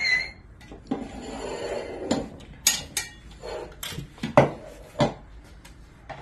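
Amla and nutmeg pieces dropped into a grinder jar for sugar-free chyavanprash, a series of hard clinks, rattles and knocks against the jar at close range, with no talk.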